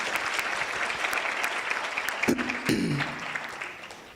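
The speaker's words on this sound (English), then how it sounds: "Let's clap hands for her once again." An audience claps at a breakfast event welcoming Miss South Africa 2022 in Polokwane. The applause is warm and steady, a brief voice rises briefly partway through, and the clapping tapers off near the end.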